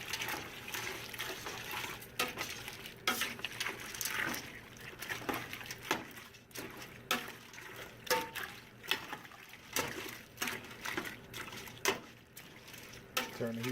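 A shrimp and grits mixture is stirred in a pot with continuous wet, thick squelching and patter, plus occasional knocks of the spoon against the pot.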